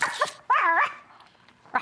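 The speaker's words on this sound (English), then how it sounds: "that's her little doggy" A small dog gives a few sharp, close yips and barks, with a longer whiny bark in the middle, heard alone with no talk over it.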